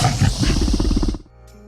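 Jurassic Park dinosaur roar sound effect, a loud, deep, rasping animal roar that lasts about a second before cutting off, followed by a faint tonal tail.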